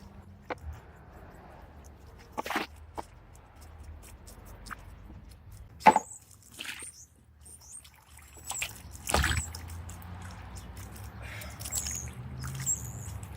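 Water sloshes and splashes intermittently in a bucket as fabric is stirred, with sharp knocks and swishes separated by quiet gaps, followed by a softer continuous swirling toward the end.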